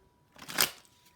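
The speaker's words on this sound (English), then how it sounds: "I'm just going to shuffle a few more times and we'll get going." Tarot cards are shuffled in one quick riffle that swells and fades within about a second, close and fairly quiet.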